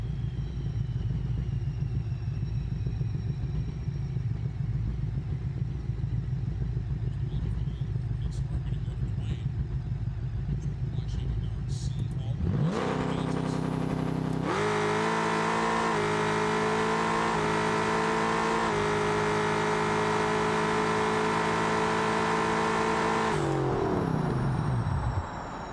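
A car in a BeamNG drag race idles with a low, steady rumble, then revs hard on nitrous into a loud, rising engine scream through the gears that holds for several seconds before backing off, with a voice briefly over it.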